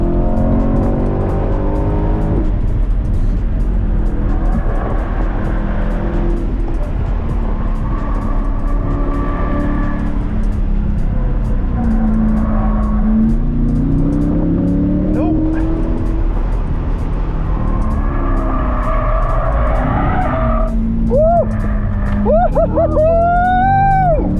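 A C8 Corvette Z51 with a track alignment laps the Streets of Willow circuit, its engine droning loud and continuous from the cabin, pitch rising and falling through gear changes, with tire squeal near the end.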